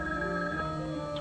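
A telephone rings in a steady, tonal electronic trill, moderately loud and continuous with no voices over it.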